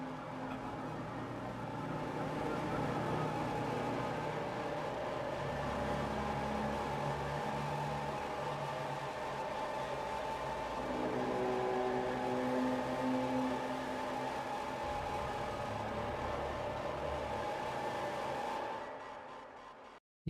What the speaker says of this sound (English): just like distorted room noise and drone sounds and everything